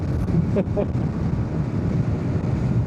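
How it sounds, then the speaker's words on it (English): Wind buffets the rider of a 2025 Yamaha R125 motorcycle on a country road, a steady loud roar of rushing air across the microphone that runs through the whole stretch with no talking. "letting a massive gust of wind in my face"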